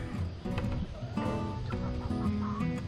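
A broody hen in a chicken coop clucks and murmurs in a run of short, close, uneven calls with low throaty notes, alone without talk.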